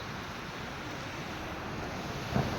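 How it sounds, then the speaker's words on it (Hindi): Steady broadband water rush of a waterfall on the Jatashankar river at night, a continuous wash of falling water close by, with a brief splash or knock near the end and no talking. "ये देखिए झरना चल रहा है"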